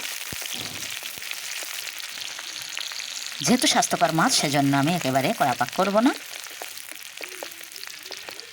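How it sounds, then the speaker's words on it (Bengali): Chopped onions frying in oil in a wok, a steady sizzle with occasional stirring scrapes, while someone talks over the cooking for part of the time. "কড়াইতে দিয়ে দিলাম পরিমাণ মতো তেল তেলের মধ্যে দিয়ে দিচ্ছি পেঁয়াজ কুচি একটু নাড়িয়ে নেব"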